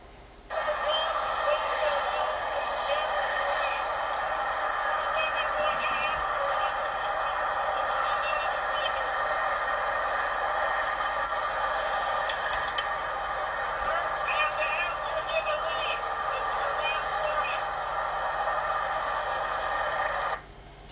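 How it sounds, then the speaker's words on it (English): Steady, dense background traffic on a street, a continuous broadband rush with faint chirping tones on top, holding at an even level for the whole stretch without any clear talk. "Hard to understand what he says with the traffic noise in the background"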